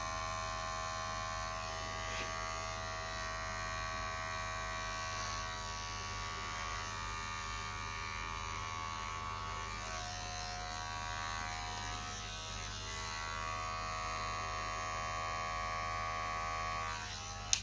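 An electric hair clipper buzzes steadily and close by, a constant tonal motor whine with a low hum beneath it that holds unbroken throughout, with no talking.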